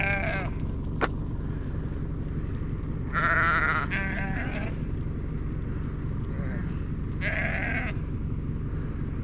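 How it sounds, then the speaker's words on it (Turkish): Sheep with their lambs bleating outdoors on a farm as they come toward a beet field, several short calls scattered across the clip over steady background noise and a faint engine-like drone. "koyunlar pancar kuyruğuna geliyor kuzularla."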